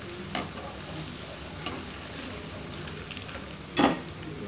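Okra pakoras coated in gram flour batter sizzle in hot oil with a steady low crackle, broken by a few louder stirring scrapes near the start and end.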